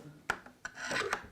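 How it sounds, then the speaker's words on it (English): A screwdriver turns the stock screws out of an IZHMASH biathlon rifle, heard as a few close, dry grinding and rasping twists with short scrapes between them and no talk. "You unscrew the two screws here."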